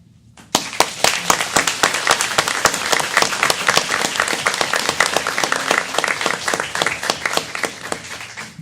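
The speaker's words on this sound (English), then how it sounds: "one more round of applause for all of our emergency services personnel." Applause for police officers and emergency services personnel at a council business meeting, starting abruptly after a brief quiet and then continuing as dense, loud clapping from a room full of people.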